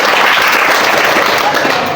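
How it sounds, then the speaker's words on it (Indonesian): A classroom of people clapping together in a loud, continuous burst, with some voices faintly mixed into the applause. "bagus sekali, kasih tepuk tangan dulu"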